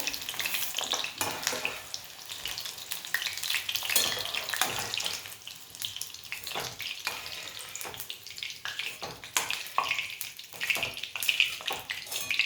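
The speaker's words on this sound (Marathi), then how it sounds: "यात आपण आता बटाटा तो पण फ्राय करून घेणार आहोत" Vegetables such as potato and brinjal fry in oil in a pan, a continuous close hissing sizzle with bubbling crackle and occasional stirring, with no talking.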